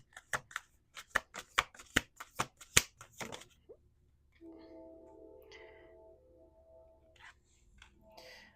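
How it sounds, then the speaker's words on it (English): Tarot cards riffle-shuffled in a quick run of crisp, close clicking snaps that stop after about three seconds. A soft low hum and faint distant sounds follow in an otherwise quiet room. "We're going to do 2 more shuffles"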